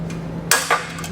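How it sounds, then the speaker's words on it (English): Snips clipping off the handle-nut portion of a base plate kit on a 2019 Jeep: one sharp metallic snap, then a smaller second click a moment later, close and clear over a low steady hum. "Just take a pair of snips and clip it off."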